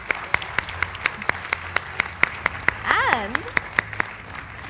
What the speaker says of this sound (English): let's give a good round of applause to everyone who has been listening